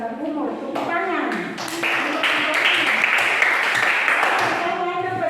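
A class of students claps together on a teacher's cue during an Indonesian lesson about a hymn, a sustained wash of hand claps that swells midway. A voice speaks over the start.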